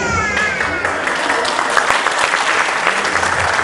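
Audience applause at a children's dance festival in Samacá after a porro palenqueado performance, a loud, steady clapping crowd that carries on evenly.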